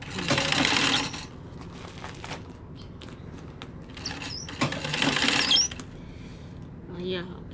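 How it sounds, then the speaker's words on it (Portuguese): Sewing machine presser foot knocking while sewing a rag rug from fabric scraps, with bursts of rapid mechanical rattling and clattering, some pauses and faint voice in between. "Esse pé de máquina tá batendo."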